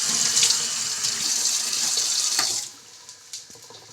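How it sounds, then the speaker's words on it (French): Tap water runs loudly into a sink as hands are washed in a kitchen, a steady close splashing rush that stops abruptly after a few seconds, leaving faint drips and handling sounds. "on va se laver les mains parce que les mains sont un peu crasseuses souvent"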